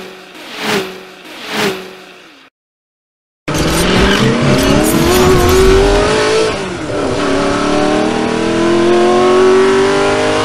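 A Trackhawk at a street race burnout box: two loud engine revs, a brief silence, then a sustained roaring burnout with rising revs and screeching tire squeal, close and loud throughout.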